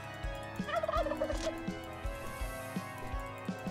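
Red turkeys gobble in a brawler-style turkey combat game, with a warbling gobble in the first half followed by repeated short thumps and squishy hits at an even pace.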